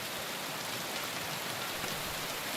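Steady, even rainfall hissing without a break in Kingdom Come: Deliverance II, a dense wash of drops with no voices over it.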